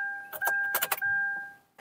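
A key turns a car's ignition to the on position without starting the engine. A brief jingle and click is followed by a sustained electronic chime tone that fades at the end. Close, with no talking.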